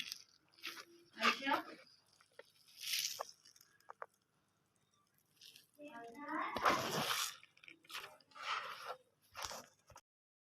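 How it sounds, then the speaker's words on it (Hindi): Wet wheat dough is squeezed by hand in a bucket of water, giving repeated soft squelching, sloshing bursts close by, separated by brief pauses, with a voice talking at times. "बाल्टी में पानी डाल के बकाया निचोड़ लेंगे हम"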